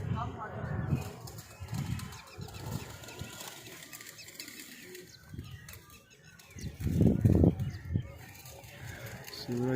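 Pigeons at a rooftop pigeon-flying tournament give off bursts of flapping wings and soft cooing, heard under near-constant talking from a man nearby.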